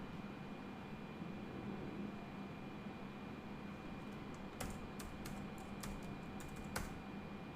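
Keys on a computer keyboard are tapped to enter a web address, a short burst of quiet clicks arriving in the final few seconds over a steady background hiss.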